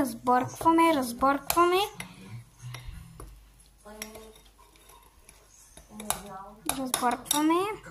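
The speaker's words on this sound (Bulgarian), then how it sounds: "Разбъркваме" A spoon stirs yogurt and cocoa in a dish, sending up light clinks and scraping taps, while a person talks over much of it.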